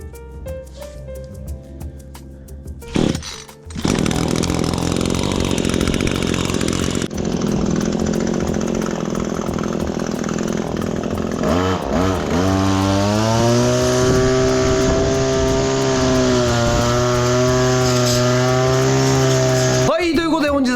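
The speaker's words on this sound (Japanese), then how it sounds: "草刈りやっていきたいと思います。" An engine-powered brush cutter mows grass outdoors, running loudly and continuously after a short start-up, its engine note rising and settling into a steady high whine with harmonic bands as it cuts.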